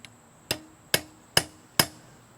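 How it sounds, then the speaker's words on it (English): Four sharp hammer strikes on a metal bus bar, punching divots, ring out at an even pace, each with a short bright ring, in an otherwise quiet space. "And then just hit it with a hammer."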